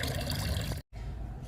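Homemade liquid fertilizer poured onto potted fruit plants such as a fig, a close steady stream of water that breaks off in a sudden gap before a softer trickle resumes.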